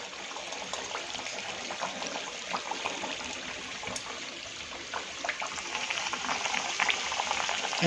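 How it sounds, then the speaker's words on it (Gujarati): Layered puri dough frying in hot oil over a medium flame, a steady crackling sizzle with scattered pops that grows slightly louder toward the end. "આપણું તેલ એકદમ મીડિયમ ગેસ ઉપર આપણે આને તળવાની છે."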